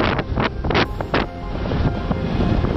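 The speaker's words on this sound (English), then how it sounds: "Really windy up here today." Strong gusts on Elk Mountain buffet the microphone in loud, irregular bursts, then settle into a continuous rushing roar of wind.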